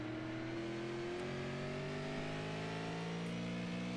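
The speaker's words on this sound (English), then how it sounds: "he goes into corner exit and gets on the throttle" A race car accelerates out of a corner. The engine note climbs steadily and loudly across the whole stretch, close by, with no talk.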